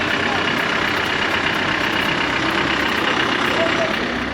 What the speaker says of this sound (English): 2005 Land Rover Defender 110 TDI. It's a workhorse.